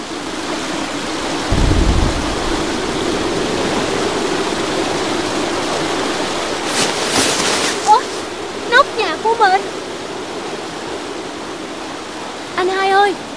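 Steady heavy rain roars throughout with a low rumble of thunder early on, while voices speak over the downpour later, in an animated cartoon.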